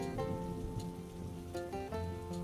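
Steady rainfall fills the scene with a dense, continuous patter, close and even throughout, while a soft melodic tone runs faintly underneath.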